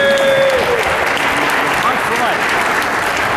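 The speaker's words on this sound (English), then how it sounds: "Give yourselves a round of applause." Dense crowd applause at an indoor pro-life rally in Cleveland's Halle Building, loud and sustained throughout with a few cheers mixed in.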